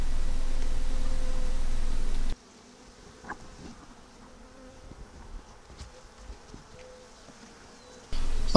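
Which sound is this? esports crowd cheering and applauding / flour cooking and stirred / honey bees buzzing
honey bees buzzing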